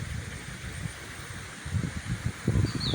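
Wind gusting outdoors, low rumbling buffets on the microphone with rustling leaves, growing stronger toward the end.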